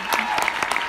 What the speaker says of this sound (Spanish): Un fuerte aplauso para nuestro diamante.